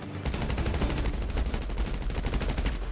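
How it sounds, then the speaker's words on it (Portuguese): Rapid automatic gunfire rattles in the GTA 5 video game during a police roleplay shootout, a loud, steady stream of closely spaced shots running almost without pause. "Tem cara atirando, tem cara atirando."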